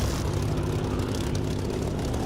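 A fixed-wing aircraft roars steadily overhead in the DCS flight simulator game during a fast, low, close pass, its engine a loud continuous drone with no talk.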